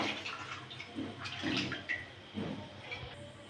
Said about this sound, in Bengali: কড়াতে আমি জল দিয়ে দিয়েছি দিয়ে দেবো